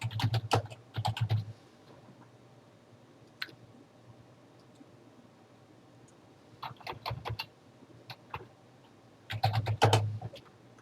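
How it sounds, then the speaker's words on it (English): Someone types on a computer keyboard in short separate flurries of quick, light key clicks, with quiet pauses in between and faint room hiss. "You can type in any message here."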